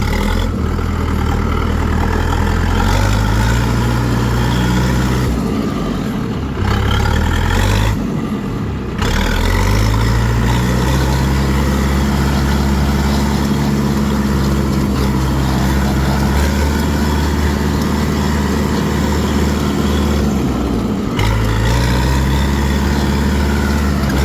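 A DTZ tractor engine running loud and close under heavy load, a continuous low rumbling drone that rises and falls in pitch as it pulls, with brief dips in between.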